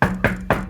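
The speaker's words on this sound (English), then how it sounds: "knocks on the door." Three firm knocks on a door in quick, even succession, close and fairly loud with a dull resonant thud.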